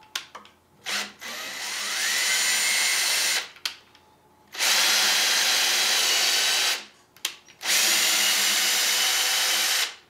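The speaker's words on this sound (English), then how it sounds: "want to see if you can drill a hole with this thing" A power drill whirs in three sustained bursts, starting and stopping with short pauses between, close up and loud.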